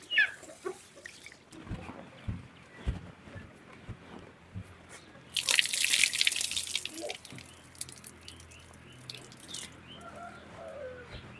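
Ingredients for coconut milk payasam are rinsed under running water: a short, hissing gush midway through a quiet kitchen scene, with scattered drips and light clatter around it and no talk.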